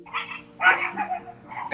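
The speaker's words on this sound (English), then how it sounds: "they're dogs. Yeah, they're outside." Dogs barking outdoors, a few sharp, yappy barks and yips in short bursts, heard at a moderate distance with no talking.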